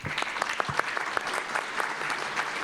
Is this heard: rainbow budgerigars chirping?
no